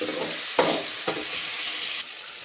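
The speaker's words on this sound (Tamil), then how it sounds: "மேக்ஸிமம் இப்படி எண்ணெயிலே நல்லா வதக்கிவிடுங்க நல்லா வதங்கட்டும்" Bottle gourd and tomato sauté in hot oil in a pan, a steady close sizzle broken by a few scraping stirs of a spoon, with no talk.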